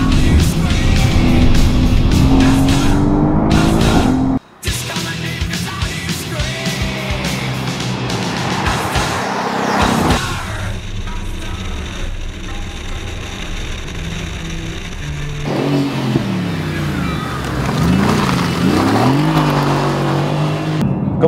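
A Mercedes-AMG GT sports car drives on a circuit, its engine loud and close, with a roaring run that briefly cuts out and then returns, rising and falling as it accelerates and changes pitch.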